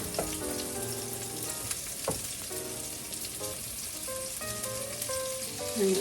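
Vegetables frying in a little olive oil over medium heat, a dense steady sizzle close by with a few soft clinks of utensils against the pan.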